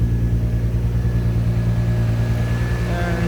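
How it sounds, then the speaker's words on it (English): A Seat Leon Cupra with a turbocharged VR6 idles steadily nearby, a deep even engine rumble with a faint whine running alone throughout, no revving and no voices. "and the engine is working here"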